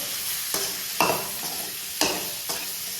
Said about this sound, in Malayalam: അപ്പം നമ്മൾ പഴം നമ്മൾ ഇങ്ങനെ വഴറ്റിയെടുത്തിട്ടുണ്ട്